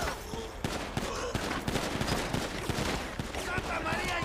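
Gunfire in a GTA V shootout between a gang and police at a Vespucci police station, dense overlapping shots and bursts crackling throughout amid shouting voices and battle noise.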